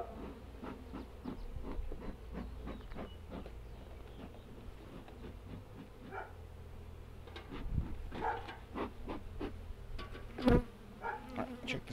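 Honeybees drone steadily around an open hive during an inspection, a close, continuous buzzing with a few louder passes near the microphone and brief knocks of handling.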